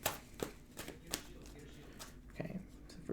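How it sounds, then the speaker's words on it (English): Tarot cards being shuffled by hand, a few brisk riffling and slapping bursts spaced irregularly, close up and fairly quiet against a faint background. "I'm just going to shuffle these a little."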